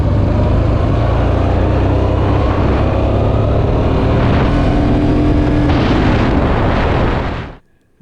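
A steady, loud roar of a Honda DN-01 motorcycle moving at highway speed, with heavy wind rush, holding constant for several seconds before cutting off abruptly near the end.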